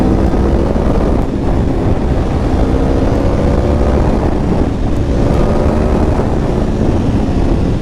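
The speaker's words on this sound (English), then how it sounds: "Just listen to that V4 engine growl." A 2023 Aprilia Tuono V4 1100 Factory motorcycle's V4 engine growls steadily throughout on light throttle, a loud continuous rumble with some rushing wind noise.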